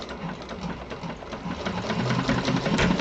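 A sewing machine stitches steadily in a class on George exteriors, a continuous close mechanical whir with rapid needle rhythm for about three seconds, no talk over it.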